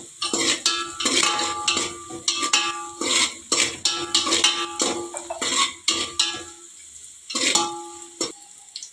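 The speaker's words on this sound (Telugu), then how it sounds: "ఇది బ్రౌన్ కలర్ వచ్చే వరకు ఇది కలుపుకుందాం." A chicken biryani mixture is stirred in a metal pot until browning: a spoon scrapes and clatters against the pot in quick, uneven bursts, close and fairly loud, with a faint sizzle underneath and brief pauses between strokes.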